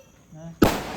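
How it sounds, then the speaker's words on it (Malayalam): A single loud firecracker bursts during Diwali celebrations, a sharp close bang after a quiet stretch of low murmuring, then ringing and crackle decaying through the last half second. "ആ ചങ്ങായി ഇടക്കിടക്ക് പടക്കം പൊട്ടിക്കണ എല്ലാരും പേടിച്ചു പോണ്."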